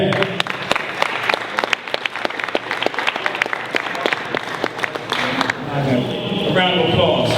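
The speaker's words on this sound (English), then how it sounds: "give a warm round of applause" A small audience claps in a steady burst of applause at a community talk on ending police violence, the claps close and sharp; the applause fades near the end as a voice starts speaking.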